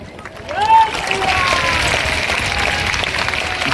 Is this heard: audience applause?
yes